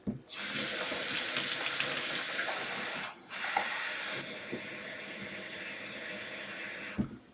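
Tap water runs steadily into a glass in a kitchen, a close, continuous rushing with a brief dip partway through and a small clink near the end, with no voices.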